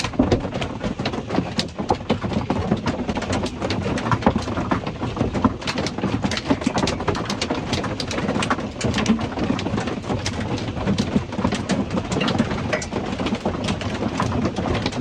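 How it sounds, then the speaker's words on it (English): Large hail, some stones around baseball size, hammers a thin metal tin-can RV during a New Mexico storm, a dense, continuous loud clatter of close impacts with no pauses. "The hail has gotten bigger."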